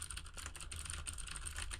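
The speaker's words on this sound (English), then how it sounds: "I'll go ahead and bang on my keyboard. I got the most annoying keyboard. I mean, it's a has the super clickies." Clicky mechanical keyboard with MX Blue switches typed on rapidly and continuously, a dense steady clatter of bright clicks at moderate level, with no voices.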